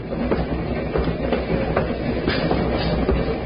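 Train wheels clack rhythmically over the rails under a steady rolling rumble, fairly quiet and continuous.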